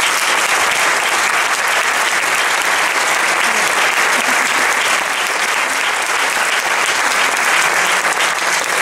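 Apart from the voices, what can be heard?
audience applause at a concert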